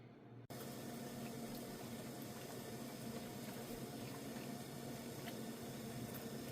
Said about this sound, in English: Alright, so it looking to boil now. Right, it just start boil.